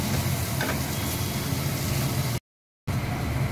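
Onion and tomato paste sautés in a pan for fish curry, giving a steady close sizzle and hiss with faint stirring scrapes, briefly cut to silence before the frying resumes.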